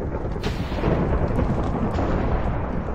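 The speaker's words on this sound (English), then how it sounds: "There's the lightning strikes." Lightning strikes and rumbling thunder in Minecraft, a dense roar with a sharp crack near the start and steady loud rumble throughout, no talking.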